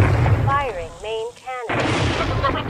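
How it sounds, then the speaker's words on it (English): A tank's main cannon fires in the Red vs Blue game machinima: a voice speaks first, then a heavy, loud blast breaks out and rumbles on to the end. "Firing main cannon."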